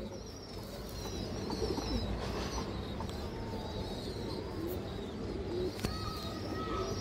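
Pigeons of a fancy breed with boot-like beaks coo softly in a loft, several low rolling coos overlapping with faint chirps against a quiet steady background.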